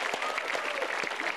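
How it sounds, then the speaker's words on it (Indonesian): An audience at a stand-up comedy show claps for a comedian, a brief burst of dense, moderately quiet applause from a crowd. "Itu dia tadi Mac Dhani, tepuk tangan buat Mac Dhani."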